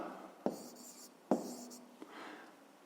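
A marker or chalk writing down the answer to a fifth-grade distance problem: two firm taps with short scratchy strokes after each, then a faint final touch, close and quiet with no voices.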